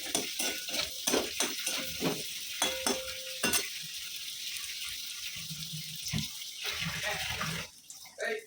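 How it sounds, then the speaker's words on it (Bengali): Bori lentil dumplings fry in oil with panch phoron and dried red chillies, giving a light sizzle under a run of clattering spoon stirs and scrapes that thins out toward the end. "আর একটু এমনি বড়িটা ভেজে নিচ্ছি।"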